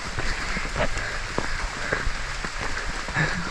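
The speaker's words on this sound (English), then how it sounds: "This is a downpour in the jungle." Heavy downpour in the Guatemalan jungle near El Mirador, with rain falling and dripping from the treetops as a dense, steady patter broken by heavier drops close by.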